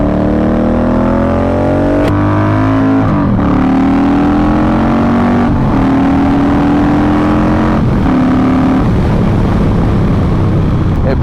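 A Yamaha Striker cruiser motorcycle accelerates hard on the road, its loud engine climbing through gears in rising whines with brief dips at each shift, close and continuous.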